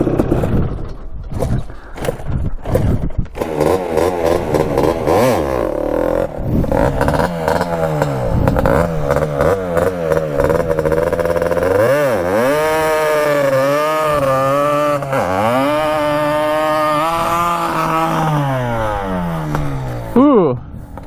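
Kawasaki Tecate 250cc two-stroke quad revving hard through a burnout, a loud, close engine whose pitch climbs and falls in repeated surges over steady clatter, with brief engine blips at the start.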